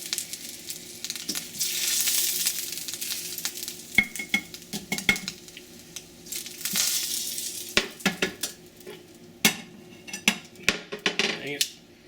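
Pan-fried pork chops lifted from a sizzling frying pan onto a plate, with scattered clinks and scrapes of metal utensils against pan and dish over a steady background hiss of frying.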